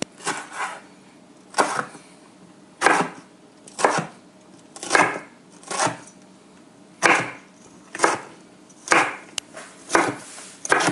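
A knife chops jalapeno peppers on a cutting board for a salad, giving about a dozen sharp, close knocks in loose pairs and singles spread evenly across the stretch, with no talking.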